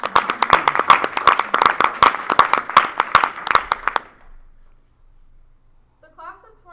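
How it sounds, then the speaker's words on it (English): Audience at a school board meeting claps for about four seconds, sharp distinct hand-claps from a modest group, then quiet with a faint sound afterward. "Let's give a round of applause for the Chaco"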